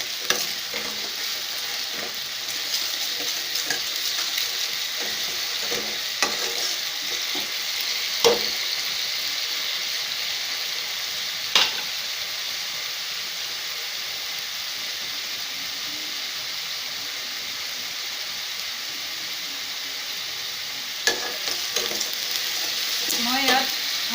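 Bay leaves and mutton frying in oil for an Assamese mutton curry, a steady close sizzle with occasional sharp clinks and scrapes from stirring.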